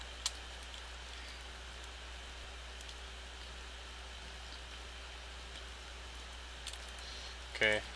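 Rain in the horror video game Corpse Party, a faint even hiss over a low steady hum, with a short sharper burst right at the end.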